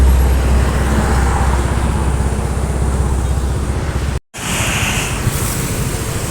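Tour bus rolling along Jalan Soekarno-Hatta in Palembang, Sumatra, a steady loud roadside roar of engine and tyres with wind, continuous and close, briefly cut out near the end.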